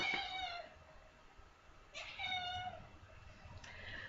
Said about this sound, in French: c'est mon chat qui vient me rendre visite